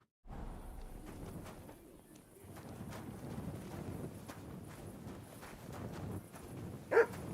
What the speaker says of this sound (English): Ah, that damn dog.